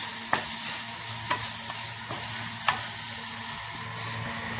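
Tomato masala is stirred with a spatula while it fries, with a steady loud sizzle and occasional sharp scrapes of the spatula against the pan.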